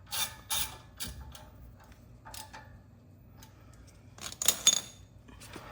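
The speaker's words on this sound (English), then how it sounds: "Put the rotor screw back in." Metal clicks and ratcheting taps come from tightening the rotor screw on the rear brake of a 2019 Volkswagen Jetta SEL. Sharp, close, irregular bursts are separated by quieter gaps.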